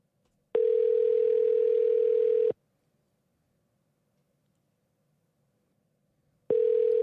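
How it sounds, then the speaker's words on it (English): A telephone call rings out on the line: two long, steady ring tones, the first lasting about two seconds, then a pause of roughly four seconds of near silence, then the second ring begins. No voices are heard. "It's ringing twice, so it didn't go right to voicemail."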